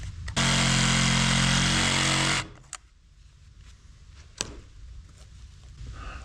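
A power tool grinding against a broken screw buried in wood in a woodworking workshop, one loud harsh burst of about two seconds that cuts off, followed by quiet clicks and a sharp knock.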